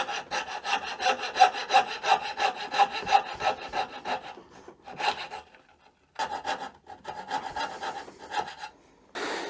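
A hand saw cuts at an angle into wood for a dovetail on a jig, rhythmic close-up rasping strokes in a steady series, pausing briefly before resuming with shorter bursts.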